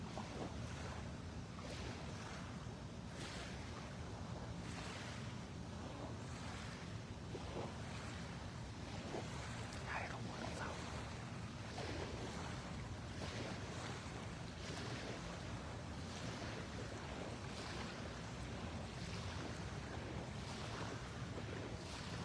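Ocean waves wash steadily against the shore in a continuous broadband rush, with wind buffeting the microphone throughout and no voices over it.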